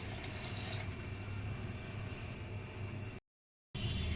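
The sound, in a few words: water poured into pan of ivy gourd masala curry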